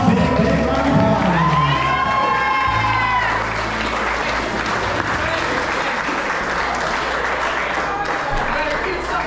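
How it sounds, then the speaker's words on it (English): A wedding reception crowd applauds the couple in a dense, sustained wash of clapping with cheers and whoops mixed in, loud and continuous throughout, while a voice speaks over the start. "Ladies and gentlemen, let's give them a big round of applause."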